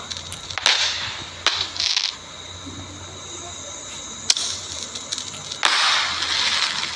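Firecrackers burst outdoors amid a fireworks display: several sharp, loud cracks spaced a second or more apart, each followed by a hissing spray of sparks.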